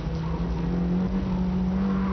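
A car turns into a long open hairpin right, its engine holding a steady, loud drone close by with a faint hint of tyre noise.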